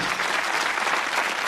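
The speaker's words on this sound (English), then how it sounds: "will you give these people a big cheer tonight who are going to play Bullseye?" Bullseye studio audience cheering and applauding for the contestants, a loud, dense burst of many people clapping with voices mixed in, sustained and close.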